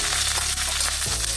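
Chopped onion and green chillies sizzle in hot oil in a pan for vermicelli upma, a steady close frying hiss with a soft clink partway through and no talk.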